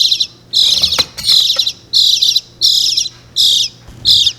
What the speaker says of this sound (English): you may hear in the background a little chirping noise.